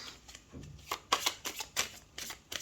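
Rapid riffling of a deck of cards being shuffled for an astrology reading, a close flurry of papery flutters and slaps with a few sharper snaps.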